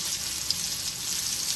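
Eggplants fry in a pan with an even, soft crackling sizzle, brief and continuous, with no voices.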